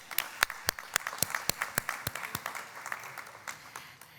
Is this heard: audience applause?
yes